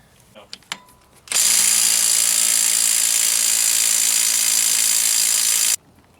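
An impact wrench on the axle nut of a Jeep TJ during a wheel bearing job fails to break the nut loose. After a few light clanks it runs as one loud, close, sustained whir for about four seconds, then stops abruptly.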